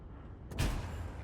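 A T26E5 Patriot tank cannon fires once in World of Tanks, a single loud booming shot with a crack and a low rumble that fades over a steady engine hum.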